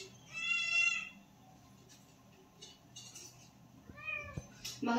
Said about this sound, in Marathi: ही आमची मांजर आहे. ओ, ही आमची मांजर आहे.